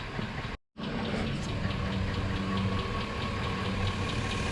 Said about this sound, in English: Okay, so it's been idling. Most of the ticking is coming from the passenger side.